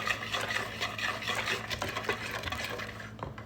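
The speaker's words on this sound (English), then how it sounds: "we're gonna get it mixed very well" A spoon stirs baking powder into batter for General Tso's chicken with soft, irregular scraping and sloshing, quiet and close, with no talk.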